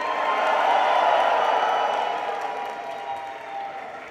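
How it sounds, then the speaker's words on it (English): Graduation guests in a large hall at a 2023 Staffordshire University ceremony break into a big cheer and applause, a dense roar of clapping and shouting that swells, then gradually fades over several seconds. "So big cheer after 1, 2, 3."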